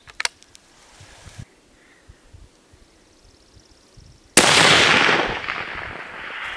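A .270 WSM rifle fires at a target 667 yards off: one loud, sharp blast after a few seconds of quiet with faint ticks, trailing into a long fading roar of echo and wind.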